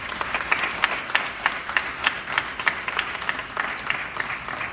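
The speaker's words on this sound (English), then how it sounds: "So let's give them one more round of applause" Applause for the staff at a student government elections debate, many hands clapping steadily in a sustained, even wash of sound.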